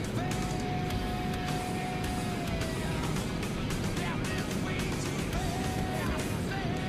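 GTA 5 online street race cars, engines roaring steadily with a long whining pitch sweep and passing rushes, loud and constant under talk.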